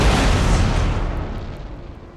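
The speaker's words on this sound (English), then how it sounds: "my cannons will fire back" Cannon artillery fire in Empire Total War, a single heavy boom with a long rumbling decay that fades over about two seconds, loud and close, with no talk.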